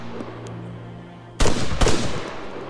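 Gunfire in the military shooter Arma 3 during a night scene: a loud burst of shots erupts after a quiet ambient stretch, with a second sharp report following shortly after and decaying.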